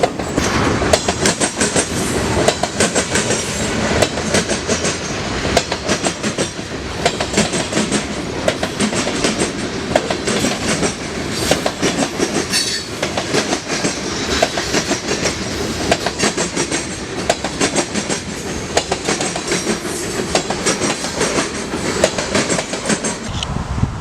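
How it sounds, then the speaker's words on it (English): Freight train locomotives in a mixed lash-up pound across a rail switch close by, a loud continuous clatter of wheels and rhythmic clickety-clack impacts rolling on without pause. "you can hear them pounding the switch right next to me"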